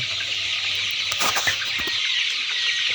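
Chickens cluck and call in a busy poultry shed holding around 1,500 to 2,000 birds, about 25 days old, with a brief flutter of wings amid constant background bustle.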